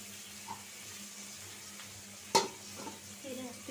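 A catla fish curry with cauliflower is sautéed in a pan after the fish is fried, giving a soft low sizzle with light stirring and one sharp utensil clank near the middle.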